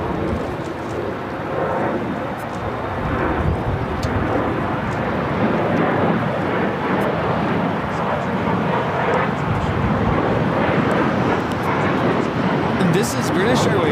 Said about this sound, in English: This is British Airways 283 coming in from London Heathrow on the 777 300ER